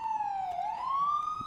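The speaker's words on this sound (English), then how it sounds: "That's like an American siren." American emergency vehicle siren wailing as a single clear tone, dipping slightly then rising again, moderately loud and alone with no talking.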